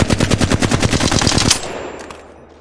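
Flatline assault rifle in the Apex Legends video game firing a rapid, steady full-auto burst of about a dozen loud, close shots, then a brief ringing tail as the shooting stops.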